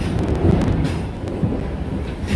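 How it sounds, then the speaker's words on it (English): A storm's thunder rumbles at an outdoor theme park animal area, a low, dull roll heard fairly close and loud for a couple of seconds, with faint crackles above and no talking. "You didn't just hear that thunder."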